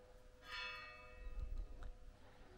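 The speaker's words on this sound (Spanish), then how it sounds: "Escuchar las campanas." Church bells ring in the village of Pitillas, a bright metallic peal with lingering overtones that swells early and then decays, sounding moderately distant over faint low background rumble.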